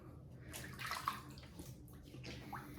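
Water splashes softly as hands wet a face before a traditional double-edge shave with a Rockwell 6S razor, faint close sloshing and dripping over a quiet room.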